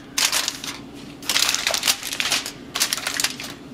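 Aluminum foil crinkled and pressed over a baking dish of Mexican creamy baked flan, three close bursts of crisp crackling and crumpling with short pauses between.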